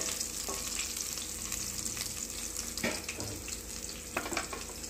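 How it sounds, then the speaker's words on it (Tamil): Garlic sautés in oil for a banana stem masala, a busy, close sizzle broken by several scraping stirs and light utensil knocks against the pan. "பூண்டு நல்லா வதங்கட்டும்."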